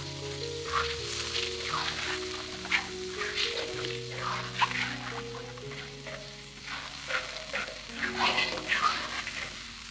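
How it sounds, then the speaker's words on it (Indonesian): Ground spice paste sautés in hot cooking oil, giving a steady crackling sizzle with bursts of spattering as it is stirred, close and fairly quiet, over soft background tones. "Kalau minyaknya udah panas kita tuangin bumbu halus yang tadi lalu kita tumis sampai wangi."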